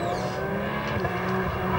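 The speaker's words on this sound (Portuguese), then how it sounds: "Vem para uma frenagem forte, a redução para a segunda marcha." A race car in a Cat. Cup race at Barcelona brakes hard and downshifts into second gear, a continuous loud engine roar with shifting tone and a faint tire squeal at close range.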